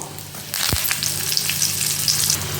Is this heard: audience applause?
no